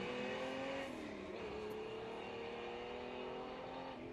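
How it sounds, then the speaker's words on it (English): A Holden Torana XU1 with a six-cylinder engine leaves the line at a historic sprint meeting, its engine note rising steadily as it accelerates away, heard alone at a moderate distance. "Love that Holden 6-cylinder sound."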